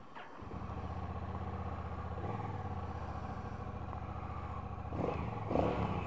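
A Honda CMX 1100 Rebel motorcycle with a DCT gearbox runs on a test ride, its engine giving a steady, close, rumbling drone that swells as it revs up near the end.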